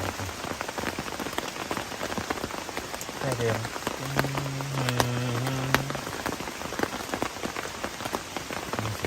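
Steady rain patters on surfaces at a cold mountain campsite on Mount Slamet, a dense continuous hiss throughout, with faint voices talking briefly in the middle.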